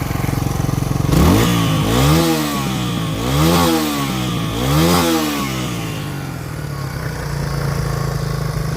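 A 1987 Suzuki SP 200 dual-sport motorcycle, a barn find, starts and runs steadily up close, its engine swelling in three rhythmic revs before settling into an even, loud idle with no talking.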